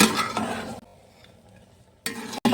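Cashews, peanuts and green chillies are stirred in a frying pan: a burst of scraping and sizzling, a quiet pause, then the stirring returns in short, close bursts.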